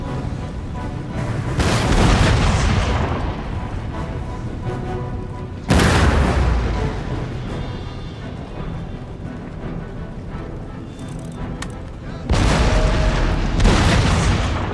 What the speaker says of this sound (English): You switch to cannon fire.